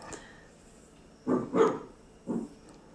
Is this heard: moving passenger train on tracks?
no